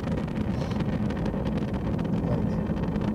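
A Proton-M rocket's engines rumble at launch of Spektr-RG, a dense, continuous low roar heard steadily from a distance without voices.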